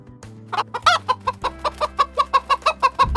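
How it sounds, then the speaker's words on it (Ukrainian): A chicken clucking in a quick, regular series of short, close clucks that speed up into an even rhythm. "Хто це? Курка."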